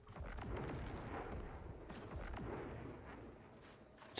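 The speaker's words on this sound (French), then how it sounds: "C'est quoi ces explosions de dingo là par contre?" Loud, dense explosions and heavy gunfire-like blasts in the video game Marathon, rumbling continuously with a few sharper bursts throughout, no talk over them.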